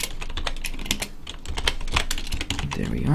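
Rapid, uneven clatter of keys being typed on a computer keyboard, close and steady throughout, with no talking.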